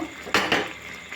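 A pan of ridge gourd bora curry with mustard-poppy paste is held by its handle and stirred, giving two quick scraping clatters of spoon against metal over a low simmering background.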